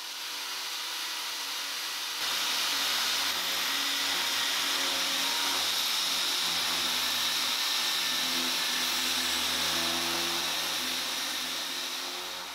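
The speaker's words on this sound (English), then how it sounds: "Drill a smaller pilot hole for the wall plugs" A power drill bores pilot holes into a wall for wall plugs during a sound system install, giving a steady, loud mechanical whir that runs unbroken for about twelve seconds with no voices.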